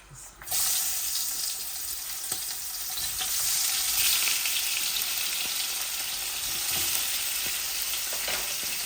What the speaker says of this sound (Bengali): মাছটা ভাজা করে দিলে স্বাদ হবে বেশি বলে মাছগুলা ভেজে নিব